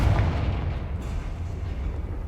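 A Confringo spell blast in Hogwarts Legacy lands as a heavy, booming explosion with a loud initial burst, then rolls on as a sustained low rumble with scattered crackle for a couple of seconds.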